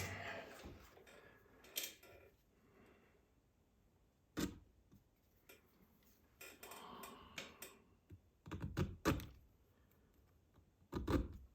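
A small half round file worked against a knife blade gives short, scattered rasping strokes, some single and some in quick bunches, separated by near-silent pauses in a quiet room.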